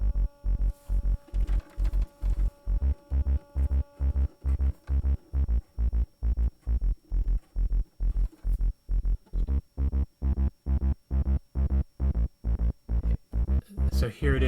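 A bass played through a Terci Ruina effect pedal pulses in a steady, evenly spaced rhythm of loud, throbbing, fuzzy notes that repeat for the whole stretch, with no talking.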